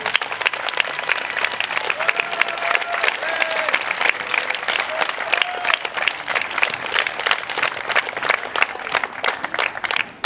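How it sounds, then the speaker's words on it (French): A crowd at a women's tennis tournament award ceremony in Marseille applauds a player with dense, loud, continuous clapping for about ten seconds, with some cheering and voices faint in the mix. "Je vous demanderai encore une fois d'applaudir très fort"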